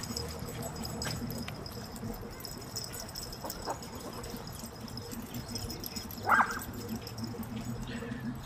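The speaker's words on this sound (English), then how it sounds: "this is one of our local dog parks" Dogs at a local dog park give scattered yips and barks in the distance over a steady outdoor murmur, with one sharper, louder bark standing out briefly near the end.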